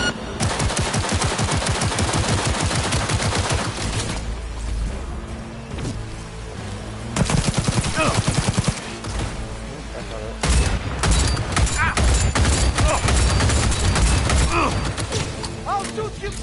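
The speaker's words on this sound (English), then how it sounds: "I'll shoot you down!" Video game gunfire in Cyberpunk 2077: loud, dense automatic bursts and rapid shots keep up almost nonstop, with brief lulls and mechanical clatter, while voices shout over the shooting.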